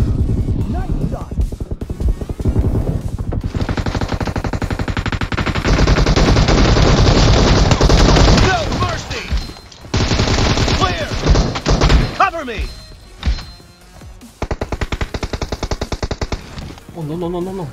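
Rapid automatic gunfire in PUBG Mobile rattles in long loud bursts separated by short pauses, with a voice speaking briefly between volleys.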